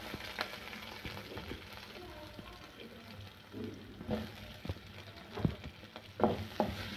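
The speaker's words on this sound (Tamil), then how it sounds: "இப்போ கொஞ்சம் லைட்டாக எண்ணெய் ஊற்றிக்கலாம் இதில் நம்ம வெங்காயம் சேர்த்துக்கலாம் வெங்காயத்தை வதக்கி அரிக்கணும்" Onions sauté in a little oil in a pan for Karnataka-style idli sambar, with a soft continuous sizzle broken by occasional stirring scrapes and clinks, close by and fairly quiet.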